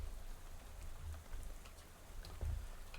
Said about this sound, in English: Soon you're dozing off to the sound of rain spattering on the window beside you.